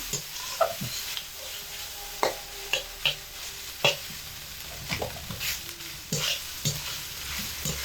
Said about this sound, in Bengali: সমস্ত মশলা দিয়ে, নারকেল বাটা দিয়ে ঢ্যাঁড়সগুলো খুব ভালো মতো কষিয়ে নিয়েছি